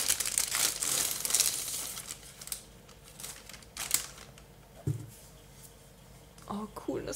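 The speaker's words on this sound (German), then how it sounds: "kann man das auspacken." Crinkling and tearing of packaging as an Advent calendar gift is unwrapped, with bursts of rustling paper or plastic and occasional handling knocks under close-up conversation in German.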